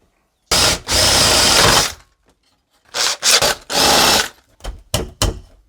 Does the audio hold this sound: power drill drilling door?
yes